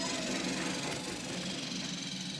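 Thomas Trackmaster toy train engine running steadily along its plastic track, a continuous close mechanical motor whir and rattle with no pauses.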